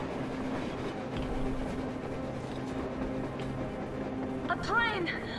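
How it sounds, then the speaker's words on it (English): A train in the video game Metro Exodus rumbles steadily with low clattering rail noise and a faint squeal near the end, heard at moderate distance while people talk over it. "A train! A damn train on the surface!"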